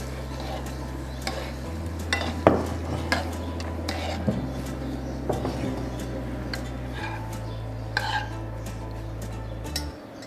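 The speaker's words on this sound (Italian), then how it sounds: "E andiamo ad amalgamare la nostra pasta con il nostro sugo" Pasta being stirred and tossed with a broccoli and sardine sauce in a pan: soft scraping and clinking of utensil against the pan at an irregular pace over a low, steady hum.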